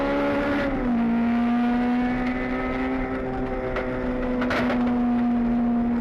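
Touring race cars battling wheel to wheel at Sepang circuit, a loud sustained high engine whine holding a steady pitch with slight shifts, with other engines blending in the background.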